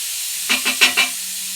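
Dry rice poured into a pan for Tamil-style vangi bath, giving four quick rustling, sizzling bursts close by, each under a second, with a soft background hiss between them.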